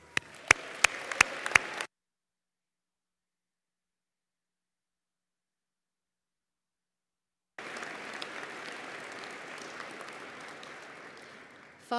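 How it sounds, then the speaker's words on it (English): Applause from a medical school commencement audience honoring parents and families comes in two bursts: a brief stretch of clapping with a few sharp near claps, then after a long silence a sustained, fairly quiet round of clapping from the crowd. "I'd like to give a round of applause for all of those parents and families in the audience"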